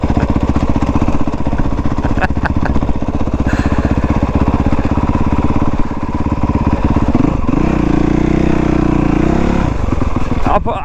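A Honda CRF 450 enduro dirt bike from 2018 runs loud and close on a trail ride, its thumping single-cylinder drone steady, then rising sharply in a rev near the middle before settling back, with no clear talk.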